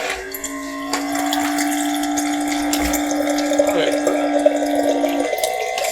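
An electric water pump draws water from a bottle, giving a steady close-up motor hum with a watery trickle running evenly throughout.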